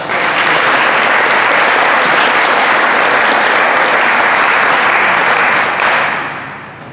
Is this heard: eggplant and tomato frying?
no